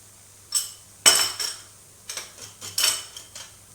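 Metal pot lid set down with a clatter and clinks while cooking paneer over low heat for a fasting recipe; several close, bright knocks in short bursts with no talk.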